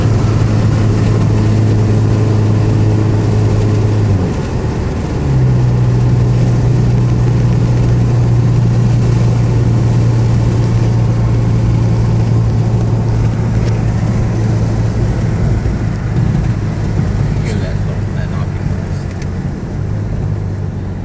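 A Scion FR-S runs at half throttle with a steady, loud, droning engine tone that breaks briefly at a gear shift around 4,500 rpm, then climbs again under continuous road noise.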